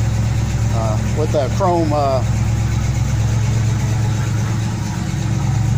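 A big block Mopar V8 idles steadily and loudly close by, fitted with a water vapor injection setup, while someone talks over the constant low rumble.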